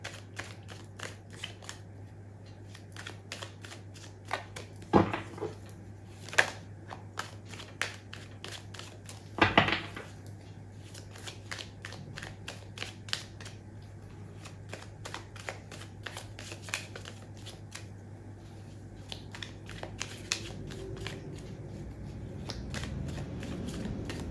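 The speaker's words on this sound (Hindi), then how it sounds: "जब तक मैं कार्ड शफल कर रही हूँ" Tarot cards being shuffled by hand, a quiet run of soft riffling and tapping with a few sharper snaps around five and ten seconds, set over a steady low hum.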